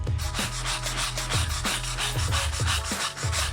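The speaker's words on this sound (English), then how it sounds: "And then now we can start scrubbing it." Brush scrubbing wet, oil-stained concrete in a fast, even back-and-forth rhythm, close and continuous with no talk.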